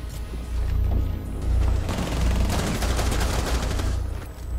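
Rapid bursts of gunfire from a match of Rainbow Six Siege crackle loudly and continuously, with dense overlapping shots and booming low rumble, no talk over them.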